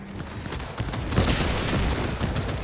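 Heavy weapons blaze away in the Cyberpunk 2077 video game, a dense burst of rapid, crackling gunfire that thickens midway and rattles on continuously, with no one speaking.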